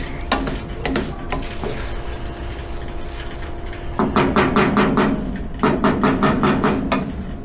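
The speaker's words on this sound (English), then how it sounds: "So you want to stir them onion tops in there." Onion tops are stirred into a pot of sizzling jambalaya, with a spoon scraping and knocking in rhythmic bursts over steady frying hiss, close and fairly loud.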